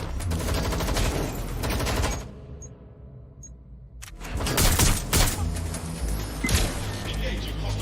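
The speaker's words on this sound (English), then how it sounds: "Someone's shooting!" Bursts of rapid gunfire in the video game Watch Dogs: Legion, loud and dense, break off briefly and then return with crashes, heard alongside voices.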